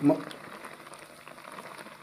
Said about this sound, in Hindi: अब मैं इस चीनी को भी पकाऊंगा, इसका पानी ज़रा खुश्क हो जाए।